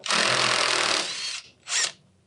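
A power drill backs lag screws out of a garage door torsion spring bracket, a loud, close whir lasting about a second before winding down, then a second short burst.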